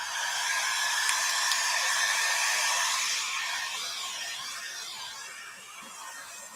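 A hair dryer blows steadily over mixed-media craft pieces, a loud close whooshing hiss that gradually eases and drops in level toward the end.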